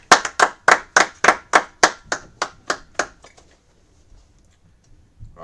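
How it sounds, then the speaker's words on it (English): Congregation at a Sabbath church service claps in unison, about a dozen sharp, evenly spaced hand claps that slow and fade out, followed by near silence. "All right, go ahead and clap it up."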